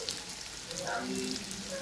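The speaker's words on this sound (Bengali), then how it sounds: "তেল গরম হয়ে গেছে, আলুটা দিয়ে দিব।" Potatoes dropped into hot oil for a chicken curry, giving a brief, even hiss of frying.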